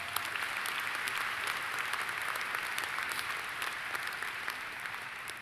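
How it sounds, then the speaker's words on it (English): Graduation audience at a business school commencement applauding, a dense, continuous wash of many hands clapping at once, sustained and even without a break. "Yes, applaud them."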